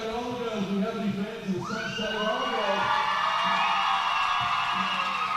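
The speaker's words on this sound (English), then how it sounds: "This crowd here at the Morayfield Indoor Action Centre is going absolutely berserko" A roller derby crowd roars and cheers inside the Morayfield Indoor Action Centre, a dense, sustained wall of whoops and high-pitched shouts that swells and holds throughout.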